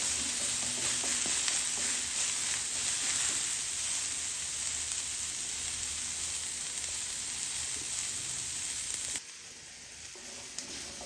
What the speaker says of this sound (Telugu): క్యారెట్ ముక్కలు అల్లం ముక్కలు కొబ్బరి ముక్కలు కూడా మంచిగా ఆయిల్లో మగ్గాయండి